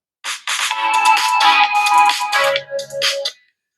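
A melodic ringtone plays loud and clear through the mono speaker of an iQOO Z7 phone, a bright synthesized tune of several phrases that stops after a few seconds.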